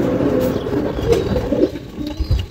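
High-flyer Giribaz and racer pigeons at a pigeon farm in Bangladesh coo in low, throaty bursts, close by, with no talking.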